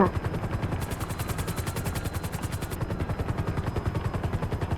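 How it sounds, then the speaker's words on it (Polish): In the GTA 5 video game, a police helicopter chases the player, and its rotor blades thump rapidly and steadily beneath bursts of gunfire, continuous and fairly loud throughout. "O, helikopter na karku."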